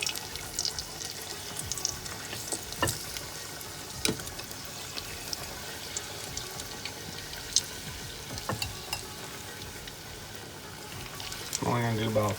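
Malai kofta balls frying in hot oil at around 340 degrees, a steady soft sizzle and crackle running throughout at moderate level, with a louder bubbling burst near the end as more are added.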